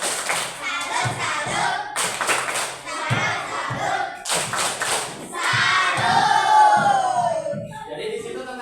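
Schoolchildren in an elementary classroom perform a rhythmic clapping chant, sharp group claps in steady bursts mixed with loud shouted voices, continuing for several seconds.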